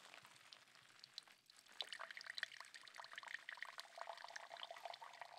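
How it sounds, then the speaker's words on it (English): Tap water poured slowly onto the high end of a sand watershed model in a middle school science lab, a faint, continuous trickling and splashing that grows a little denser after the first second and a half. "slowly pour tap water into the high end"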